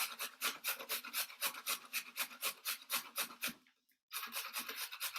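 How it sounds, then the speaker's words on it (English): A carrot rasps back and forth across a fine kitchen grater in a quick, even rhythm of close scraping strokes, pausing briefly near the end before the strokes resume, with no one talking. "It gives a nice fine carrot grate."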